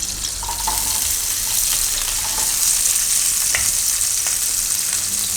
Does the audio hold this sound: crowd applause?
no